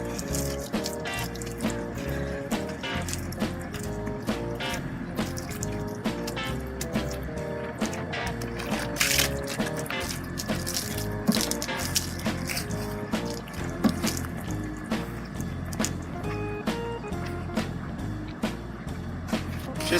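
Water splashes and drips continuously during a hand car wash with a bucket, with close, irregular sloshing and trickling and many small splashy bursts throughout, with no talking.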